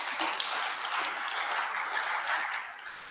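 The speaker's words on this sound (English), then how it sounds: "you can applaud that" Steady audience applause at an annual meeting, a dense, moderately loud wash of clapping that holds for a few seconds before tapering off at the end.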